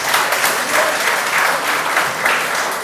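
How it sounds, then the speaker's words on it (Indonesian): An audience at a debate bursts into sustained applause for a speaker, dense continuous clapping that holds steady throughout with no talk over it. "Tepuk tangan untuk pembicara kita."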